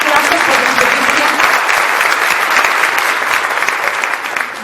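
A conference crowd bursts into loud, close applause after a talk on improving the relationship with one's child, a full, dense wash of clapping that carries steadily for several seconds before easing slightly at the end.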